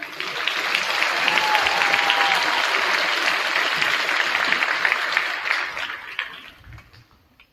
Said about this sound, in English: Let's clap her in.